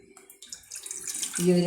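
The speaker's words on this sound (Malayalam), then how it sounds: "കപ്പിന് 2 കപ്പാണ് വെള്ളം ഒഴിക്കാൻ." Water poured from a cup into a pot for masala tea, a short rising splash that grows louder over under two seconds and ends with a brief tonal ring, with no talking.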